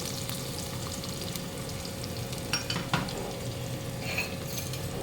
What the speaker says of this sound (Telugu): ఇందులో ఆయిల్ వేసుకుని టమాటాలు, ఆనియన్స్, జీడిపప్పు వేపుకోవాలి.